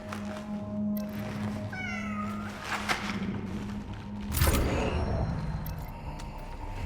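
A cat meows in the sci-fi survival horror game CRONOS: The New Dawn, a few short rising cries over low ambient game hum, followed by a heavier thud or rumble near the end.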